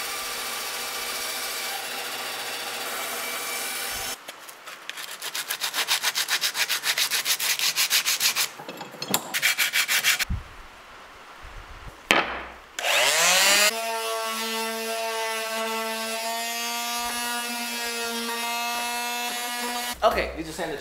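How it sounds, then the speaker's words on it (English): Bandsaw cutting wood, a bright sustained buzzing whine that runs for several seconds, then stops and restarts with a steady motor hum, near and loud. "we're gonna use a bandsaw because I'm lazy"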